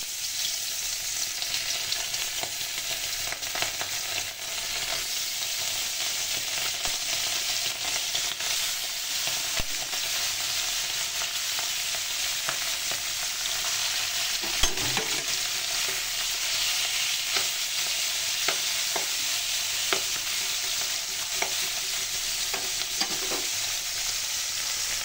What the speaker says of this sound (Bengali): আজকে আমি সেই পুঁটি মাছগুলো ভাজবো